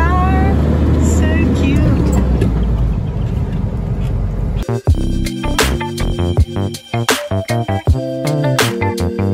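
A van drives into Springbrook National Park in Queensland, Australia, with a steady low road rumble inside the vehicle for a few seconds before music takes over.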